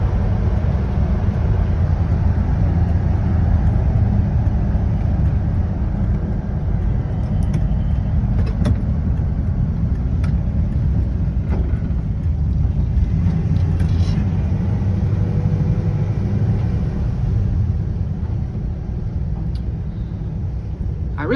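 A 1966 Ford F100 custom cab pickup driving along, its engine and road rumble droning steadily and loudly throughout with occasional faint clicks and knocks.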